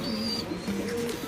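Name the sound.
racing pigeons cooing in a loft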